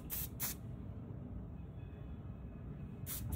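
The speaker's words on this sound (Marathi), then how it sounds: "शाईन स्प्रेने आपलं काम कंप्लीट करून घ्यायचं" A can of shine hair spray gives short sharp hissing bursts during hair styling: two quick sprays close together at the start, then a pause with low background hum, and another burst at the end.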